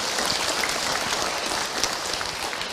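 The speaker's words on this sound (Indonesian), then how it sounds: "Tepuk tangan buat ibu yang bertanya." A seated audience at an Islamic religious talk applauds a woman who asked a question, giving a moderate, even wash of clapping from many hands that holds steady without speech.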